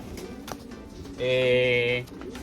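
A single close pigeon coo rises briefly between stretches of low murmuring talk while young birds are being marked.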